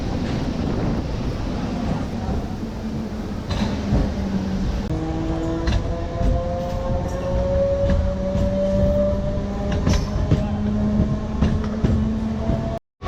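The Narasapur MEMU Express 17269 at Nidamanuru station: rumbling carriages and wind buffeting give way to a rising electric motor whine as the train gathers speed, loud and close.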